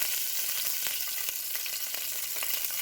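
Steady, crackling sizzle of green chillies frying in hot oil after a tempering, close and continuous with small pops throughout.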